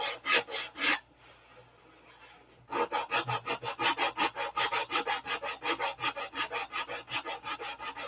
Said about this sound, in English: guys are probably tired of watching me sand.